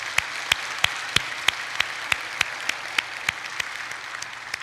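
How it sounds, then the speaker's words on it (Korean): Church congregation clapping during a Sunday service, a steady rhythmic beat of about a dozen sharp, evenly spaced claps over a hushed room, easing slightly in loudness toward the end. "그분들께 감사하는 박수 올려드리기 원합니다"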